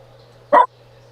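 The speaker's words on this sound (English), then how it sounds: "I heard that bark." A single sharp dog bark, close and fairly loud, cuts through a quiet room with a low steady hum underneath, lasting only a fraction of a second before the hum returns alone.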